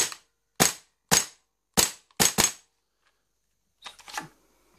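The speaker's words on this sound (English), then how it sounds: "it's just a cheap starter gun to get into gas blowbacks" G&G gas blowback M4 airsoft gun firing six sharp, loud, separate shots at an uneven pace, followed after a pause by a softer mechanical rattle.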